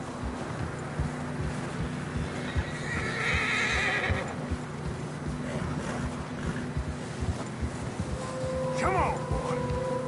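In Red Dead Redemption 2, a horse whinnies loudly amid steady wind and muffled hoof thuds as horses struggle through deep fresh snow, with a faint voice and a higher squeal near the end.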